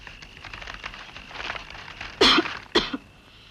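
Two sharp coughs, one after the other, from a person in a 1981 Hindi action film scene, heard over faint background noise.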